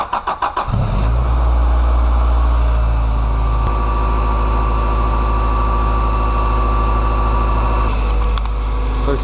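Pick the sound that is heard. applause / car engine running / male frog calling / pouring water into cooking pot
car engine running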